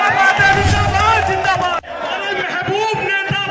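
A large crowd at a 2024 election political rally in Old Delhi cheers and shouts loudly and continuously, with a brief break partway through before the roar resumes.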